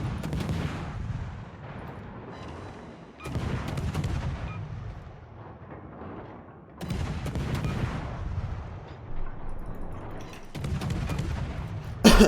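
Naval guns fire from a T7 Commonwealth destroyer, the Huron, in World of Warships: heavy booming salvos roll in every few seconds, each followed by a lingering low rumble.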